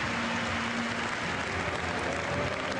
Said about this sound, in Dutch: En zelfs de buurman heeft daar applaus voor over.